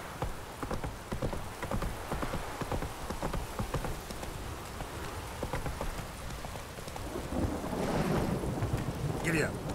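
Horse hooves pound at a gallop in The Witcher 3, a dense run of clip-clop beats under steady rain-like noise, with a swell of wind or ambience building near the end.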